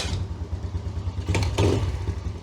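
A Polaris Sportsman 90 ATV engine runs at a steady, rough idle with a close, clattering rumble, then picks up briefly in a couple of short blips.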